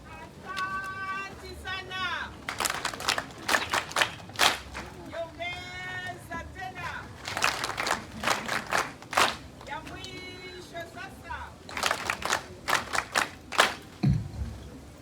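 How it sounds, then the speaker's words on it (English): At a college graduation ceremony, an audience claps in bursts of rhythmic patterned clapping broken by pauses, with voices singing or chanting between the bursts. "Let us have a patriotic clapping"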